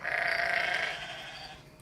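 Sheep bleating in a field on a farm at night: one long, wavering bleat that trails off slowly, fairly close and alone.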